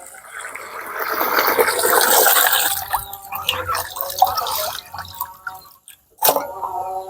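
Raw chicken pieces being washed in a vessel of water: close splashing and trickling that swells, drops away into a brief pause, then returns with a sharp slosh.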